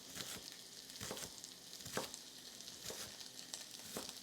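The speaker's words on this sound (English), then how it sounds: "Veggies are a cooking." Bell pepper and onion strips char in a hot pan for shrimp fajitas, giving a steady, faint sizzle and crackle with a few soft stirring bumps spaced through it.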